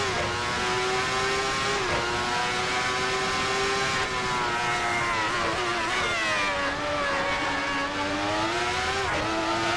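Ferrari 412 T2 racing car's V12 engine screaming in a racing game, loud and continuous high revving with quick dips at gear shifts before climbing again, heard alone with no voices.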